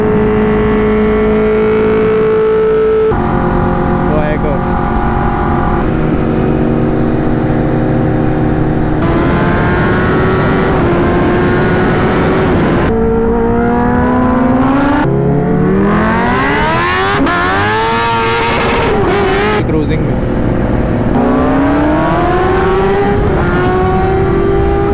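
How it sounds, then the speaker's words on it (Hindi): A Kawasaki Ninja ZX10R sport motorcycle engine on a ride, loud and continuous, with rising and falling revs as the rider shifts gears and accelerates, close to the microphone and without talk. "अपनी पहली राइड कर रहा हूँ ZX10R पे।"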